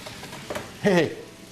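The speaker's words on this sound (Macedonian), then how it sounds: "Тиквицата е со кромидот. Полека се пржи." Zucchini and onion fry slowly in a pan with a soft, steady sizzle and some stirring, briefly overlapped by a speaking voice.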